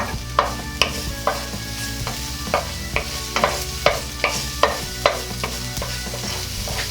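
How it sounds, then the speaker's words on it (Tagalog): Garlic frying in a pan while being stirred with a utensil, a soft sizzle underneath with a series of distinct scraping taps every half second or so, close and moderately loud, no talking. "Hihintayin ko lang po na medyo mag-golden brown po yung kulay ng ating bawang."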